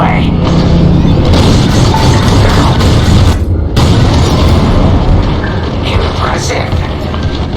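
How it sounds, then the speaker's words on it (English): Bombs going off in the Star Wars Squadrons space-combat game, a loud continuous rumbling barrage of booms and bursts with a brief sharp dropout partway through, dense and close throughout. "On my mark, it's bombs away."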